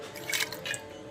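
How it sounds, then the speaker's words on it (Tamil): Water poured into a pressure cooker holding chana dal, a brief splashing trickle with a couple of louder gushes over a steady background hum. "தேவையான அளவு தண்ணி ஊற்றி"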